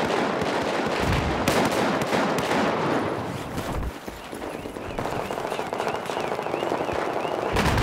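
Gunfire in the video game Battlefield, heard as dense, loud bursts of cracking shots and blasts packed close together, with a brief lull near the middle before the firing resumes.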